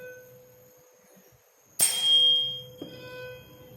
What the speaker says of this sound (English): This is the sound of this frequency of the tuning fork